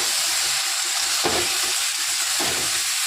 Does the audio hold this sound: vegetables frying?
yes